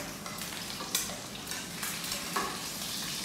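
Pork chops sizzle and spatter steadily in hot oil in a wok, a dense crackling hiss with occasional louder pops and stirring scrapes, close by and without voices.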